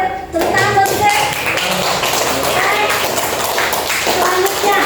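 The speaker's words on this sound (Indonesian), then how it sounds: "Tepuk tangan buat Sisil." Classroom applause for a student's answer during a lesson, a steady patter of many hands clapping close by, filling the whole stretch with no clear break.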